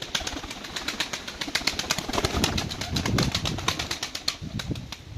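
Pigeons kept in a cellar coo and flutter their wings, a steady mass of soft low calls and repeated wingbeat rustles close by, continuous throughout with no talking.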